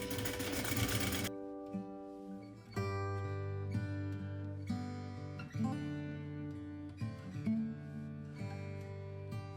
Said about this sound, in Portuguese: eu vou passar uma costurinha prendendo tudo isso